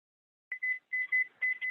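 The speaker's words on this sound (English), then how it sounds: "I'm going to set the timer for 30 minutes" A kitchen oven timer beeps in a series of short, bright electronic tones, one brief chirp followed by repeated longer beeps in a steady pattern, close and clear with no talking.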